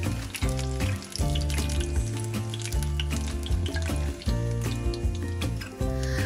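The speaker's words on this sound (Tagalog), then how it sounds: "Iprito na natin tong tokneneng sa mantika na pinagprituhan ng lumpia" Tokneneng, butter-coated boiled eggs, frying in oil previously used for lumpia, giving a loud, busy crackle and bubbling sizzle with clattering utensil sounds and brief dips, close up.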